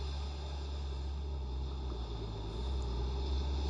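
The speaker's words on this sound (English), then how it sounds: "I don't know if you can hear the machines running in the background." Heavy machines run and haul sand on a beach in North Naples, Florida, giving a low, constant engine rumble in the distance under steady wind and surf noise, with no voices.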